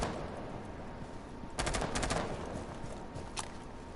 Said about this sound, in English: Sprays through the windows, trying to get that lucky headshot.